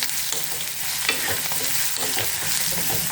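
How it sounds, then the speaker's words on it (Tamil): Onions sautéing with turmeric powder in a pan for a milagu poondu kuzhambu, a steady broadband sizzle with scraping stirs throughout, close and fairly loud with no talking. "மஞ்சள் பொடியை போட்டு வதக்கிட்டோம்"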